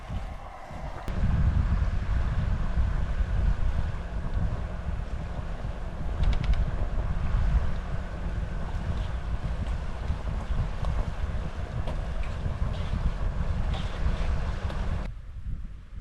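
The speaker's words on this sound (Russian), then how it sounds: "После обеда поднялась волна сильная" Steady wind buffets the microphone over continuous lapping and splashing of choppy water on Lake Baikal, loud and close, with no voices.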